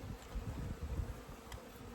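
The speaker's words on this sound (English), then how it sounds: "We got a cluster of the bees up there." Honey bees buzzing around a 20-frame Layens hive during an October honey frame pull, a steady close drone with low humming swells and no talk.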